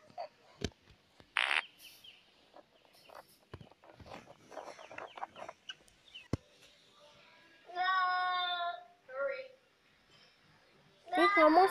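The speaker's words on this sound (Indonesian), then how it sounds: "Kucing aku tuh Coki ngomong sendiri mulu" A pet cat meows in a couple of bursts, near and fairly clear, following a stretch of scattered household noise and brief voices.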